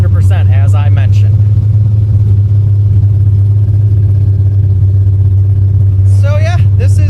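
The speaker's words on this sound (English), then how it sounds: "this is what it sounds like to drive an old Mercedes that runs for shit and has absolutely no exhaust" A rough, poorly running 1970 Mercedes-Benz 250 engine with open headers and no exhaust idles with a steady low rumble and uneven clatter throughout, with brief bursts of revving near the start and end.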